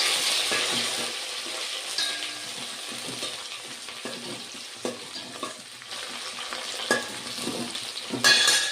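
Steady sizzling of small and large onions with curry leaves frying in a pan, with scraping stir strokes and occasional clanks of a spoon against the metal.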